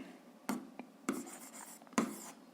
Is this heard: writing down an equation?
yes